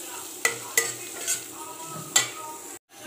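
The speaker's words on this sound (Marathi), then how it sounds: "चांगलं परतून घ्यायचं।" Spring onion, vegetables and noodle masala sautéed in a pan for veg noodles, a steady sizzle with a few sharp scrapes of a spoon against the pan, close and alone.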